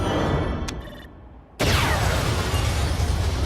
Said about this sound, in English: A very spectacular explosion, showing off a lot of particle effects.